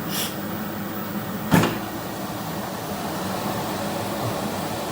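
An electric kettle being descaled boils with a steady, even hiss and rumble, broken by one sharp click partway through.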